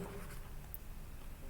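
Hand writing during a maths lesson on differentiation makes soft, close scratching strokes that run steadily over a quiet room hum, with no one talking.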